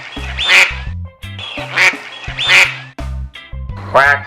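A voice imitates a duck, giving four nasal quacks in an even rhythm, close and clear with short pauses between them.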